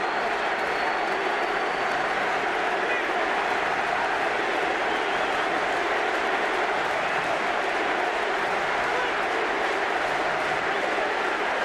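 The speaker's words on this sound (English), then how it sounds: "The crowd let their passions be heard." Stadium crowd roaring and cheering at a 2007 Rugby World Cup match between Wales and Fiji in Nantes, a dense, sustained wash of noise that stays steady and broad throughout.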